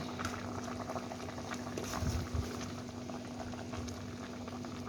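Pork belly with pickled bamboo shoots simmers in a pot, a continuous bubbling boil with soft patter and a faint steady hum underneath, close and fairly quiet.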